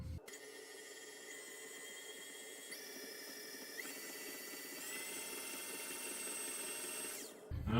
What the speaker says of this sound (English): Now we'll put our whisk attachment back on here.